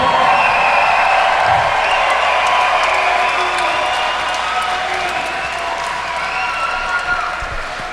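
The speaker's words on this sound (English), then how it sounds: "How about a nice round of applause for all our fighters tonight here at Scheels Arena." An arena crowd at a fight night at Scheels Arena applauds and cheers for the fighters, a loud, sustained roar of clapping and whoops that fades slightly over eight seconds.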